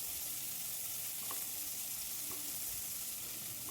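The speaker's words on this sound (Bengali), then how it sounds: "এখন পেঁয়াজটা কিছুক্ষণ ভেজে নেব।" Sliced onion frying in a pan with a little salt, cooking as part of a Bengali shankar fish recipe; a soft, steady sizzle runs unbroken throughout with no voices.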